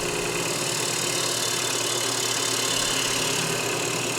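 A wood lathe turns a maple and epoxy resin bowl, giving a steady, dense whir of motor and cutting noise that holds at even loudness for the whole stretch, with no voices.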